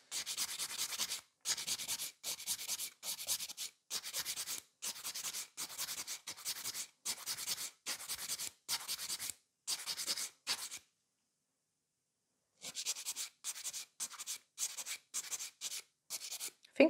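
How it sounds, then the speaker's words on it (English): Steady back-and-forth strokes of a file smoothing a gel nail extension, close and rhythmic in repeated bursts, with a pause before the filing resumes. "now I just need to smooth out this nail and remove the excess of the product which I've got in there"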